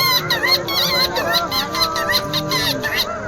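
A man whistles an imitation of the red-wattled lapwing, a run of loud, close, shrill calls repeated in quick succession for a few seconds.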